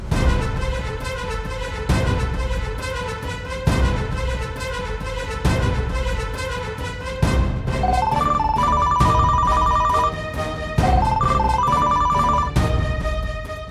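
A telephone rings with a melodic electronic ringtone whose tune repeats in a steady looping pattern, loud and close, with no voices over it.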